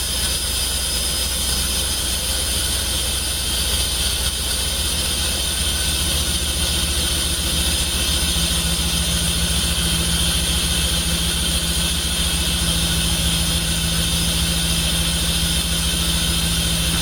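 A Jaguar XJ12 Series 3 fitted with a V8 engine runs in a loud, steady drone and hum that holds for the whole stretch, with a slight shift partway through and no voices.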